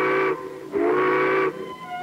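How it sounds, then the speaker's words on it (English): A showboat's loud steam whistle blows twice, a short blast and then a longer one, with a brief gap between them. No one speaks. "Little Squeak heard the showboat whistle."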